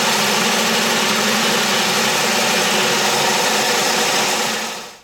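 Wood lathe turning a collar piece for a music stand, a steady loud machine whir with dense broadband cutting hiss running continuously, then cutting off abruptly at the end.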